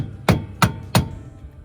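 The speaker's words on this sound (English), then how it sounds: "Now I can hammer this down into place." Three sharp hammer strikes on metal, evenly spaced about a third of a second apart, loud and close with nothing else around them.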